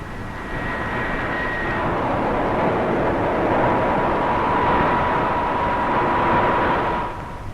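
A Westland Whirlwind helicopter drones steadily with a loud, continuous rotor and engine roar that swells slightly, holds, and then begins to fade at the very end.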